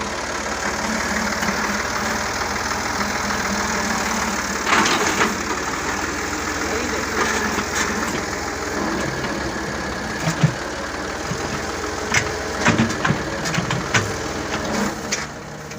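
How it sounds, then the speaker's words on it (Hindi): A tractor backhoe engine runs steadily at low speed while digging and cleaning, with a continuous mid-range rumble and occasional knocks and clanks from the bucket work. No one talks. "ट्रैक्टर का रेस भी बिल्कुल स्लो में फिर भी चल रही है"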